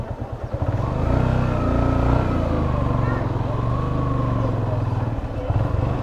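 A scooter approaches along a road, its engine hum rising and holding steady at close range, with voices talking over it.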